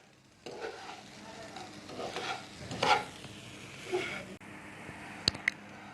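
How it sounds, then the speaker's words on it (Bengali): Vermicelli (shemai) frying in a pan over medium heat, a soft, steady sizzle with stirring scrapes and a few louder clinks of utensil against the pan near the end. "এটিকে আমি 2 থেকে 3 মিনিট মিডিয়াম আঁচে ভেজে নেব।"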